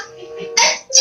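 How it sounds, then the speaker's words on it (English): A girl sneezes twice in a high school TV short, each sharp burst standing loud and alone after a brief quieter lead-in. "We had a problem with her with the sneezes."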